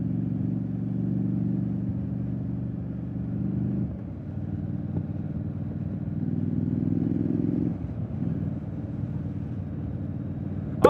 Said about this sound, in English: Oh, the exhaust sound is stock.